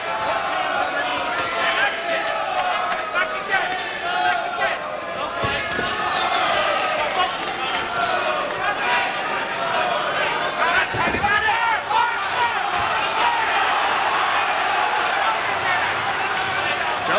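A noisy boxing arena crowd roaring for Tony Sibson during his fight with Frank Tate, a constant loud wash of cheering and shouting with a ringside commentator talking over it.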